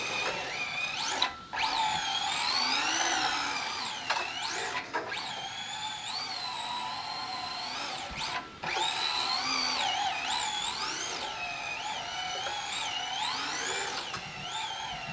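A Team Associated DC10 RTR electric RC drift car with brand-new tires runs on carpet indoors, its motor whining in rising and falling sweeps as it accelerates and slides, broken by a few sharp dropouts.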